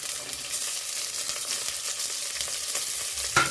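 Green chillies, dried red chillies, ginger and garlic fry in a pan for a ground masala, hissing in a steady close sizzle, with a sharper stirring clatter just before the end.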